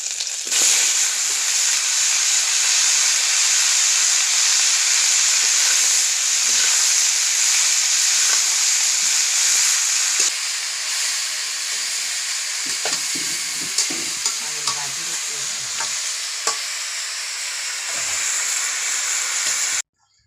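Ginger, cumin seeds and fenugreek frying in oil in a village kitchen, a loud continuous sizzle and hiss with occasional stirring scrapes, steady and close throughout.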